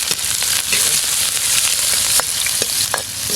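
Garlic and onion fry in a hot pan with a dense, steady sizzle and crackle, punctuated by occasional sharper pops and the scrape of stirring.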